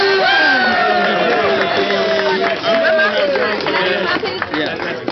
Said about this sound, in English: we gotta give him a big round of applause